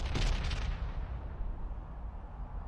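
An artillery shot and bombardment from the strategy game Pandora: First Contact, a single deep blast at the start whose low rumble slowly fades away over a couple of seconds, fairly faint.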